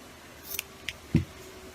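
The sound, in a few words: cutting yarn with scissors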